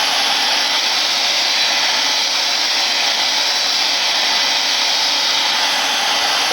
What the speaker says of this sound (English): We'll go ahead and blow dry it though, just to kind of set it a little bit